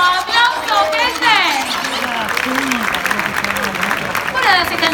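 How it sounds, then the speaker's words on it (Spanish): Lively crowd clapping and cheering at a freestyle rap battle, with shouting voices rising over the noise. "¡Aplauso, gente!"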